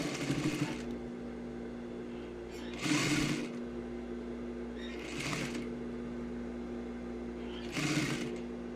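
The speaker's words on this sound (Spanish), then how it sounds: "La vamos a unir con una costura simple, una costura recta, consumiendo nuestro centímetro de costura." A sewing machine stitches a simple straight seam joining the hip side of a diagonal bag pocket, sounding in four short whirring bursts at a steady pace with quiet pauses between them.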